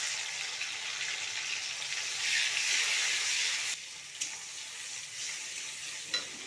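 Chopped tomato hits browned onions frying in a pan, setting off a steady hiss of sizzling broken by a few light stirring knocks.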